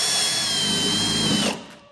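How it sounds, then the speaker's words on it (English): A power drill fitted with a step drill bit bores holes, giving a loud, steady high whine that cuts off abruptly near the end. "So let's drill a few holes, more holes, so you guys can see how that works."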